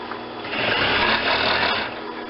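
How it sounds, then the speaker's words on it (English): An industrial sewing machine runs a short, fast burst while sewing a collar seam, a close, steady motor hum with rapid needle chatter that starts and stops within a couple of seconds. "I'm doing this on an industrial machine, but I have done lots of them on regular home sewing machines too"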